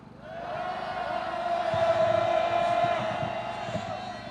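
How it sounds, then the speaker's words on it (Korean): Rally participants at a Seoul people's rally shout together in a sustained, loud roar that swells and holds, with no speech over it. "우리 동지들의 함성 한번 쐈으면 좋겠습니다. 함성 시작!"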